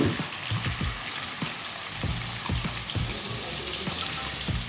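Onions dropped into hot oil fry with a soft, steady crackling sizzle, faint and close, with scattered small pops and light clatter.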